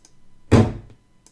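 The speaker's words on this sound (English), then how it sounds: "I banged on the desk. Not the floor, but it was a desk." A single hard bang on a wooden desk, processed with pitch-shifting and reverb into a deep, booming thud that swells then decays over about half a second, with faint clicks before and after.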